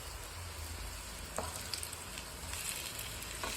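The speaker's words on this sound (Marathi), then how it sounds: "दोन्ही साईडने ब्राऊन होईपर्यंत छान असं शालो फ्राय करून घेऊ" Coriander vadi (kothimbir vadi) shallow-fry in oil in a pan over a medium flame, making a dense, even sizzle with a few faint crackles, heard alone at moderate volume.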